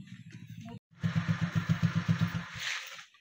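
A motorcycle engine runs nearby with a low, steady chugging pulse and a raspy upper layer, loud and close, after a brief quieter moment and a short cutoff.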